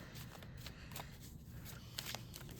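Tarot cards being shuffled and pulled from the deck, a quiet run of soft riffling flutters and light papery slaps, close by and with no talking.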